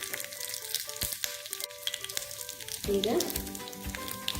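Cumin seeds sizzle and crackle in hot ghee in a tadka ladle, close and sharp, with a brief spoken word at the start and a burst of louder spluttering near the end.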